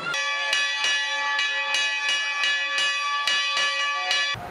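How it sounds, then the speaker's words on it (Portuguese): A church bell rings repeatedly in a steady rhythm, each bright stroke ringing on and overlapping the next, heard clearly with no voices. "Ele vai abrir a igreja, depois tocar o sino"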